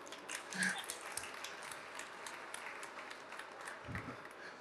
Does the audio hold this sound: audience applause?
yes